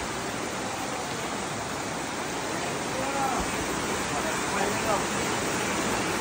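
A stream flowing beside a cave entrance in the Cao Bang countryside, a steady broadband rush of water filling the whole stretch, close and even in loudness.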